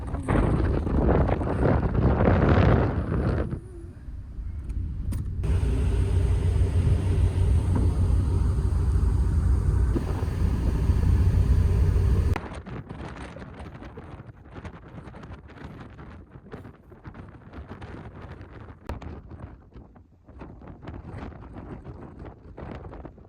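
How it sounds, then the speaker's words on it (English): Strong wind buffeting a microphone on the deck of a car ferry travelling from Greece, loud roaring gusts at first, then a quieter, steadier rush of air and engine rumble. "It's always very windy."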